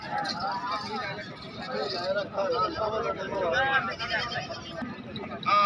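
Goats bleat repeatedly amid a busy livestock market, their cries mixed with close men's conversation and crowd babble.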